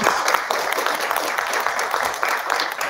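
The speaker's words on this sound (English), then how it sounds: "Let's once again please give Rachel a round of applause." Audience applause at an evening event, a steady wash of clapping at moderate distance, continuous throughout.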